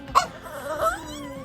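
A Chihuahua gives a couple of short, high yips and a whiny bark, fairly quiet and close, with brief gaps between the sounds.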